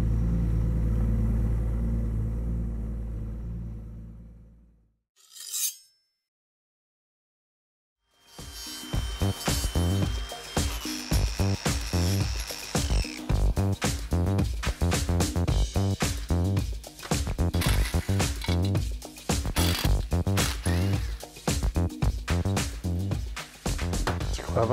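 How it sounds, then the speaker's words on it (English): A car engine idles after a cold start with coolant at 14 degrees, giving a steady low rumble for about five seconds before it stops. A louder, busier stretch follows after a short silence. "A cold start, 14 degree coolant temp."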